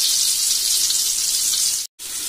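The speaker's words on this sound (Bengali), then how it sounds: "এখন আমি মাছটাকে ভেজে নিব। আমার তেলটা গরম হয়ে গেছে," Pieces of rui fish fry in hot oil, giving a bright, constant hiss that fills the frame, broken once by a split-second gap of silence before the sizzle resumes.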